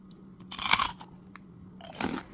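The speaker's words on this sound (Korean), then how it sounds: "깔끔하게 톡톡 쪼개지면서 아주 바삭해요." Rice cracker snack bitten with a crisp crunch, two sharp crackly bites about a second and a half apart, close and clear with no talking.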